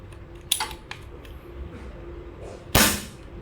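A repaired homemade gun with a fixed firing pin valve fires: two sharp cracks, a lighter one early and a louder, longer report near the end, with small clicks between them.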